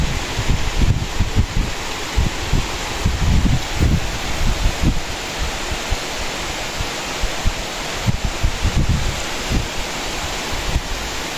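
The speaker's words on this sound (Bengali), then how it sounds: "চারিদিকে বৃষ্টি এবং অনেক বৃষ্টি হচ্ছে" Heavy rain falls at dawn in a dense, steady hiss, loud and continuous, with low gusty rumbles underneath and no voices.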